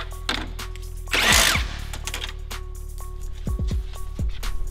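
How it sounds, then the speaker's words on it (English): Power tool, likely a drill or impact driver, spinning and whirring in short bursts as it removes 10 mm bumper support bolts on an S197 V6 Mustang; one longer burst sounds near and loud and several brief ones follow, with no talking. "Now take off the 10 millimeter bumper support bolts."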